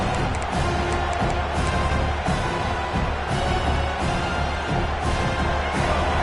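A football stadium crowd roars steadily through a tense red-zone defensive stand, a dense, continuous wall of voices and cheering at even loudness with no one speaking up close.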